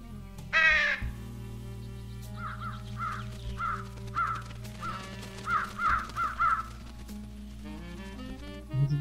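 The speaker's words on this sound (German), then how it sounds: "Dann sind die Vögel wahrscheinlich wieder hier" Crows caw repeatedly in short paired calls in the video game Trüberbrook, set against a steady low ambient hum with faint rain-like patter.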